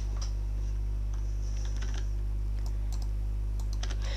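Computer keyboard keys tap in quick, irregular bursts while someone plays a marble game on a PC, with a steady low electrical hum underneath and no talking.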